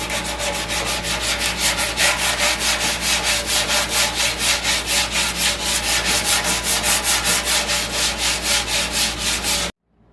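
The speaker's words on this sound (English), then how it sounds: "Sand it with 100." A motorcycle fuel tank being sanded by hand with 100-grit sandpaper, a loud, close, rhythmic rasping of quick back-and-forth strokes that runs for about ten seconds and then stops abruptly.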